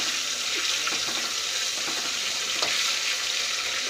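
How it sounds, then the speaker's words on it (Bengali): A tomato and spice masala sautés in a pan for a Bengali catla fish curry, giving a steady, close sizzle with soft scraping stir strokes throughout and no talking. "এবার আমি হচ্ছে মশলাটাকে কষাবো।"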